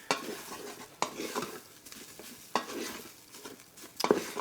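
Garlic and spices toasting in a pot for a spicy split pea dish, heard as a soft steady sizzle broken by about four sharp stirring scrapes and knocks against the pot, close and moderately quiet, with no talk.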